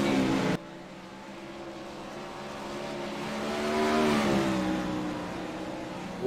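Dirt-track race cars roar past in a league race, their engines rising and falling in pitch as they sweep by. A loud surge swells in the middle and then fades slightly, with no talk.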